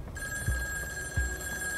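A telephone rings in the horror video game In Sound Mind, a steady electronic ringing tone heard faintly and continuously, with two soft low thumps beneath it.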